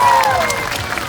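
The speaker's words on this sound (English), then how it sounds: "Please keep that applause going and help me welcome these two to the stage." Audience applause at a sea lion show at the Long Island Aquarium, a steady, dense clapping crowd with a whistle-like tone sliding down over it.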